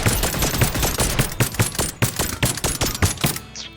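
Rapid-fire staple pistol in the video game Hover Junkers, a loud, continuous burst of closely spaced shots at a fast, steady rhythm that cuts off near the end.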